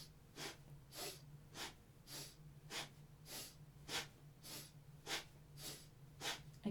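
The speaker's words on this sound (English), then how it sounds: "We inhale up and exhale down." Rhythmic forceful breaths through the nose during a yoga kriya, about a dozen sharp evenly spaced puffs, close and quiet over a low steady hum.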